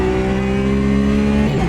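Race car engine in the AMS2 racing sim, a steady loud drone with strong harmonic tones held at constant pitch, then a brief dip and shift near the end as the revs change.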